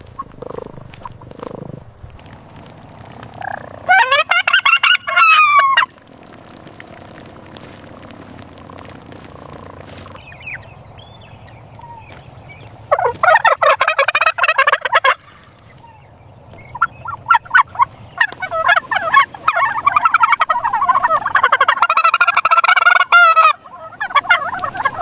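Turkeys gobbling in bursts on a farm, loud rattling calls at several points over steady background flock noise, close by with no talking.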